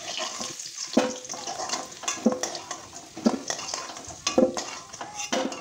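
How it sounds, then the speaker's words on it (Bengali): Cut potatoes frying in oil with salt and turmeric for a mutton and potato curry, with a steady sizzle broken by repeated clinks and scrapes of a spatula stirring in the pan at close range. "একটু লবণ হলুদ দিয়ে একটু ভেজে নেব।"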